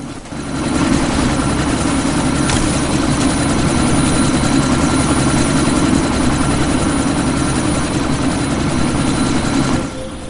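Helicopter in the video game Deus Ex: Mankind Divided, a loud continuous rotor and engine drone holding steady for about ten seconds, close and alone without speech.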